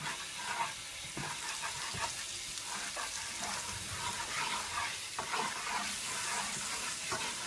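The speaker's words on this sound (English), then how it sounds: "2 spoonfuls of plain flour to my pot. Then just give it a stir." Plain flour is stirred in a hot pot for a seafood gumbo with smoked sausage, making a continuous close sizzle with soft repeated scraping strokes throughout, with no voices.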